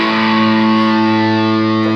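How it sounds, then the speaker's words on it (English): A sustained distorted electric guitar chord from a relic'd Stratocaster with 1960s Kawai pickups, ringing steadily, loud and thick with overdrive, held without a break. "Set myself up a nice sound to get some distortion on."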